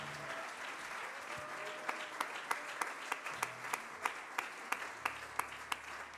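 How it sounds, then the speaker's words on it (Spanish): Applause at a church service in Talca, with a crowd clapping in a steady rhythmic beat that carries on throughout, and faint voices beneath it. "Podríamos darle un aplauso con más energía."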